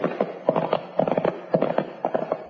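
Two horses clip-clop along at a steady walking gait, hooves striking in clear repeated clusters of knocks, close and distinct with no talk over them.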